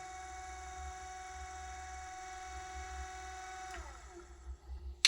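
An electric drive motor on a used Viamobil Eco V14 wheelchair running in reverse whines with a steady, faint, high-pitched hum, then slows and stops near the end with a few clicks.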